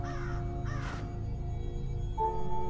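A crow gives a few harsh caws as a sound effect in a dark Portuguese horror tale, where a huge enraged crow drives a bird out through a door; the calls sound near and loud over a low steady background hum.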